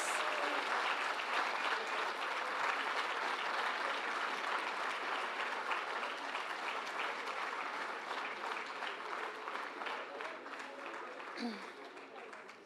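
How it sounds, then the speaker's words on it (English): A lecture audience at an Africa Day lecture gives a sustained round of applause, broad even clapping lasting over twelve seconds and slowly tapering off near the end, fairly distant in a large hall. "Please, let's give them a warm round of applause."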